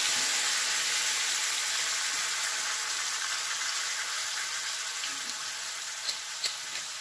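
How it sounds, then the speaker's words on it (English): Red wine bubbles and sizzles in a hot pan with tiger prawns, a steady hissing boil that stays loud and even throughout, with a couple of faint clinks near the end. "We just have to let it boil for a bit so the wine will soak in your prawns."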